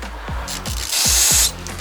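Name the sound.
spray cleaning Holley carburetor parts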